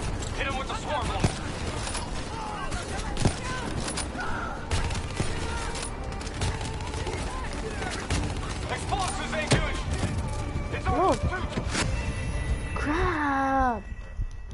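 Swarm launcher fire in a military shooter video game, a dense barrage of rapid explosive bursts under continuous battle noise, with shouted voices and radio chatter throughout.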